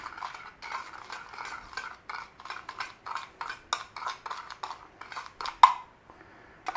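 Beef being mixed by hand or utensil with salt and Cure 1 sodium nitrite in a bowl, giving a steady run of close, rhythmic stirring and scraping strokes, then a brief sharp clink near the end before it quietens.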